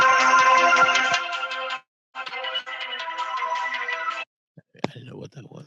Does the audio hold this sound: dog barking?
no